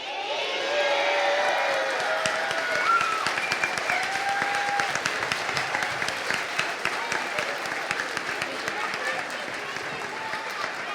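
A school audience at a second-grade concert breaks into sustained applause for the music teacher, dense clapping throughout with a few cheers and voices rising above it.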